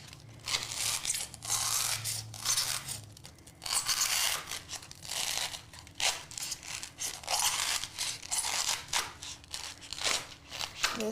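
Scissors crunch and tear through stiff, crinkly peel-and-stick tile in a series of uneven cuts, close up, with occasional quiet talking underneath.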